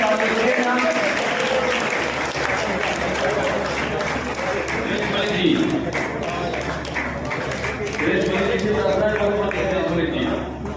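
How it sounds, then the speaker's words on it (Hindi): Guests at a retirement party applaud steadily for about ten seconds, a dense wash of clapping from a gathered group with voices and murmuring mixed in throughout. "तालियां बजती रहे"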